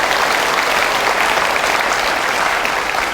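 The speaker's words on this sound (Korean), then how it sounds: "그런 의미에서 한번 격려하는 마음으로 우리 청년분들 위해서도 한번 박수하시더라고요" A church congregation gives loud, dense applause to encourage its youth group. The clapping holds continuous and full from start to finish, with no break.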